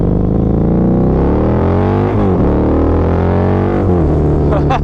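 Harley-Davidson V-Rod motorcycle engine revving at low RPM, a loud, steady throaty rumble close by with rising and falling pitch sweeps as the throttle is blipped.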